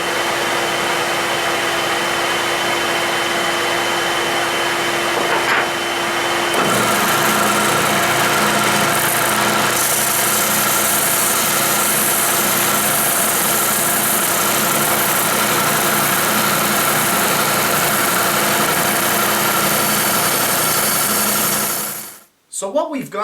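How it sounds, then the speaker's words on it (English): A disc and drum sander shaping the inside curve of a wooden part runs steadily for about twenty seconds, a continuous loud whirring hum that rises slightly after a few seconds, then winds down at the end. "we're going to go ahead with the sander here"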